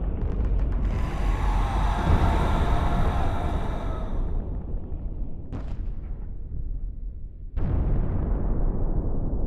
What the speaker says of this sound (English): A sudden uptick in the tempo of artillery and flak cannons, however, changes the mood.